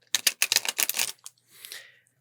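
Tarot cards shuffled close up in a quick burst of crisp riffling clicks, a pause, then a softer sliding riffle as the deck settles.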